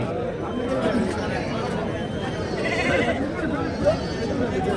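Sheep and goats bleat amid the crowd noise of a busy weekly livestock market, with constant chatter and talk in the foreground and a few animal calls rising through the din.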